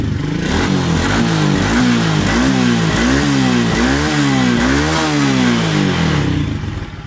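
A Suzuki fuel-injected scooter engine during a repair service starts and revs loudly, close up, rising and falling in several repeated throttle blips over a steady running drone.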